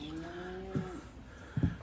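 A cow on a farm lets out a long, low moo that fades, followed by two dull thumps nearby, with no talking.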